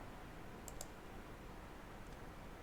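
A few quick keyboard clicks as a short CAD command is typed, one pair close together then a fainter pair a moment later, over quiet room hiss.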